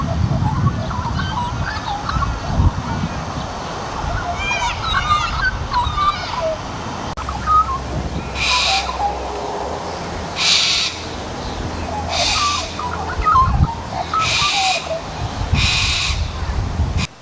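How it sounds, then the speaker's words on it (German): Parrots and parakeets give repeated harsh squawking calls in blooming South Australian countryside, loud and close, while someone talks over them. "durchweg auch die Papageien oder die Sittiche"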